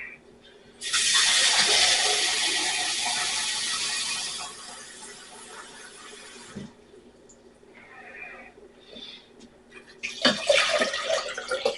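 Water runs from a kitchen tap to fill three cups. A loud, steady hiss of flow starts abruptly, then softens as the cups fill and cuts off. Brief clatters and a second short burst of running water follow.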